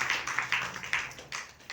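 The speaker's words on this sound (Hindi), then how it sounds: "ताली बजाइए माता के लिए" An audience clapping for the mother goddess at a gathering at a Brahma Kumaris centre in Etawah, a short burst of sparse, separate hand claps with an uneven rhythm, fairly close and moderately loud.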